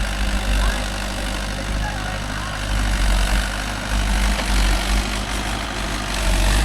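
A Mahindra tractor engine drones low and steady while driving, a continuous heavy rumble with slight rises and dips in loudness, close by and filling the scene.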